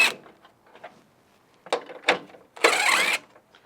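Screws being removed from the grille of a 2nd-gen Toyota Tacoma with a 10mm socket or Phillips screwdriver: a few short scraping, ratcheting bursts with a louder rasping turn near the end, close up and without talk.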